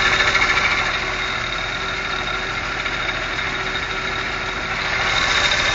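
A 1974 AMC Gremlin engine idles steadily after a cold start, a constant mid-level hum with light ticking and vibration, and no voices.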